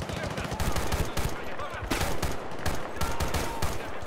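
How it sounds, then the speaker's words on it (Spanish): Dense, continuous machine gun fire in the Battlefield: Bad Company 2 game, loud rapid bursts with overlapping shots filling the whole stretch without pause. "¡Ametralladora allí!"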